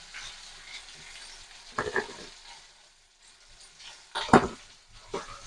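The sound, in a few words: stirring tomatoes frying in oil with salt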